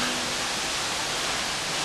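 A steady, dense rush of falling water at the Misol-Ha waterfall in Chiapas, Mexico, a continuous broadband roar with no breaks, close and fairly loud.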